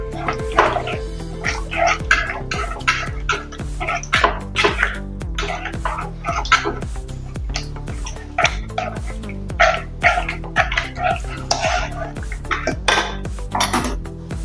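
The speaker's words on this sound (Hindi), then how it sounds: "इसको भी अच्छे से मिक्स कर लेंगे।" Spoon scraping and clanking in a pan as leftover potato gravy is mixed into a stuffed chilli curry, rapid repeated metallic knocks close up, fairly loud and busy, no speech.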